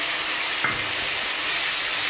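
Fried onions with cumin, turmeric and salt hiss steadily in a pan, with a single clack of a spoon against the pan early on while stirring.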